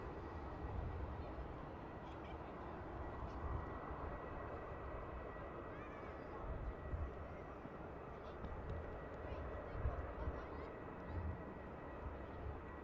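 A Ryanair Boeing 737 departs Manchester Airport, its engines giving a steady broadband roar heard from a distance, with no speech over it.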